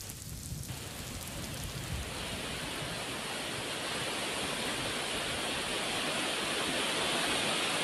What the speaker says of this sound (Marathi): कसनेर येथील धारेश्वर मंदिराजवळचा धबधबा त्यामुळे प्रवाहित झालाय।